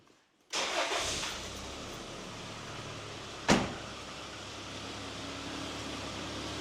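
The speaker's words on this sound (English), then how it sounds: "Start the car." A first-generation Toyota 4Runner engine cranks and catches after silence, then settles into a steady idle, with a sharp click or clunk partway through.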